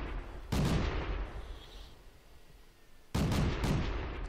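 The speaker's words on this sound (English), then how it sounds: "I think these guys kept shooting at each other and they couldn't penetrate each other." Tank guns firing in World of Tanks, a duel between tanks whose shots fail to penetrate: two loud booming blasts several seconds apart, each followed by a rumbling tail, with a low rumble of battle ambience between them.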